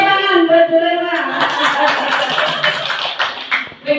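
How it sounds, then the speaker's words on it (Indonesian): Applause in a classroom concentration game, with a voice first, then a dense round of clapping from the group, a few light laughs mixed in. "Tepuk tangan berdua."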